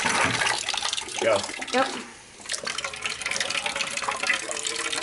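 Water gushes from a freshly cut pipe during a whole-house water filtration install, as the shut-off valve fails to stop the flow, a steady broadband rush under brief exclamations and talk from people nearby.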